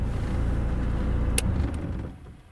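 A VAZ car engine idles with a low steady rumble, then a short click from the start-stop button and the running noise dies away as the engine shuts off.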